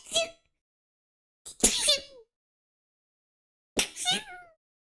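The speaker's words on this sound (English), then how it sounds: "I'm about to sneeze!" A cartoon character voices three sneezes, the first short and the next two longer with a rising, voiced cry, each separated by silence, close and clear.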